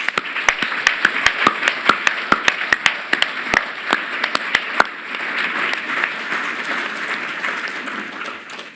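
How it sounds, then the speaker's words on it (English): Applause at the RIBA President's Medals 2025 awards ceremony: sharp, distinct claps at first, then settling into a dense, steady round of clapping from the audience. "Please join me in giving them a well-deserved round of applause."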